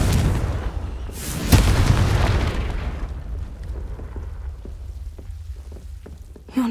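Confringo blasting spell exploding in Hogwarts Legacy, a sharp bang that leads into a long rumbling roar, which thins into scattered crackles and debris patter and ends on a final thump.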